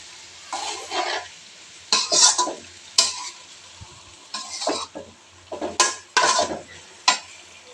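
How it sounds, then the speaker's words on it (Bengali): A pot of koi fish curry with potato and pointed gourd is stirred in close, scraping bursts that come and go in an irregular rhythm, with no talking. "আজকে মাছ রান্না করতেছি"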